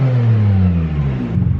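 A straight-piped Ferrari F430 with a gated six-speed manual revs, its deep engine note sliding in pitch as it pulls away, loud and close with no talk.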